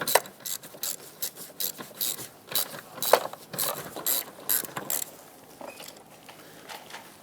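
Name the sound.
ratchet removing a 12mm master cylinder mounting nut on a Mazda 6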